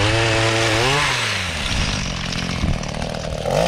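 A gas-powered extension pole saw cuts through tree branches out in a field, its engine running loud and steady throughout, the pitch rising and falling as the chain bites into the wood.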